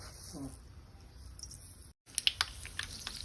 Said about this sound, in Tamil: கடுகு போட்டுக்கலாம்.